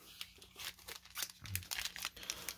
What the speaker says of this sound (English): We're gonna go ahead and shuffle some of the packs.